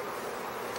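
A swarm of honeybees hums in a steady, dense drone, close and unbroken for the whole moment, with no voices over it.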